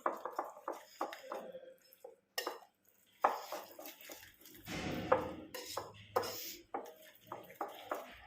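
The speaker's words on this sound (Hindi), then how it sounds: "अब हम इसको अच्छे से मिक्स करेंगे।" Grated vegetables for besan tikki being mixed in a metal bowl, with spoon clinks, scraping and tapping against the dish in irregular bursts, close and fairly quiet.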